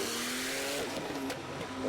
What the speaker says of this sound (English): Look at that exhaust back there.